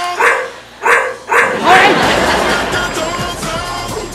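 A dog gives a few quick yipping barks in a row, loud and close, followed by a noisy stretch where voices or crowd sound take over, heard during a live comedy sketch on stage.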